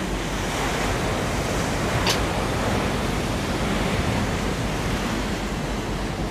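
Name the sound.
ocean waves crashing on eroding shore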